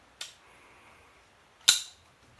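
Two sharp, crisp clicks about a second and a half apart as a Ganzo G751 folding knife blade flips open on bearings and snaps into place, close and clear with no talking; the second click is louder.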